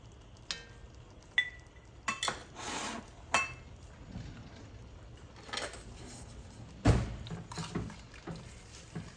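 Spices and meat for daal gosht being mixed by hand or spoon in a bowl, with soft rubbing and scraping plus a few sharp clinks and knocks, quiet and close with no talking.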